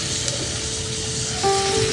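Hilsa fish heads sizzle in a pan of frying spice paste, a close, steady hiss and crackle with a brief faint whistle-like tone near the end.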